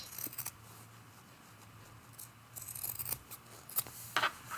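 Scissors snip carefully through a thick, patchworked quilted fabric snowman ornament. The cuts are quiet, close, crisp and irregular, and come denser toward the end.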